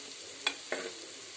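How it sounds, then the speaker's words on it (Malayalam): Chopped ginger and garlic sauté in a pan with a quiet, steady sizzle, broken by two brief scraping clinks from stirring. "ഇതൊന്ന് വഴറ്റിയെടുക്കണം നന്നായിട്ടൊന്ന് ഇളക്കി കൊടുത്ത് വഴറ്റിയെടുക്കണം"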